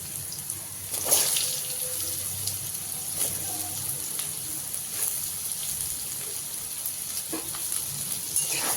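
Potato pieces frying in hot oil tempered with bay leaf, dried red chillies and Bengali five-spice, for a vegetarian pumpkin dish; a steady soft sizzle runs throughout with a few brief clatters and no talk.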